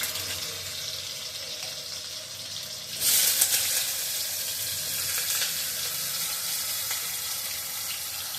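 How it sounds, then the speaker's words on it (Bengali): Pointed gourd (potol) drops into a hot pan and starts frying, a bright hiss that jumps up suddenly partway through, then settles into a steady close sizzle after a quieter, watery stretch. "এদিকটা পটলগুলো ছেড়ে দিই, আস্তে আস্তে ভাজা হইতে থাকুক"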